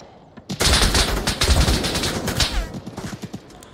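Dense bursts of gunfire crackle through a VR shooting game, loud, close and almost continuous for over three seconds, with rapid overlapping shots that thin toward the end.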